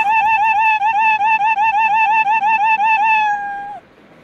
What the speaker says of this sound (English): click on and drag the play sound meow until done